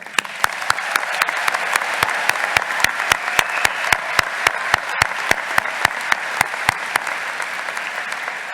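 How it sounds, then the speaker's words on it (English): Sustained audience applause at a Durham College spring graduation convocation, a dense wash of many hands clapping steadily throughout, with a run of sharp, regular clicks cutting through it. "let us take a moment to acknowledge that with a round of applause"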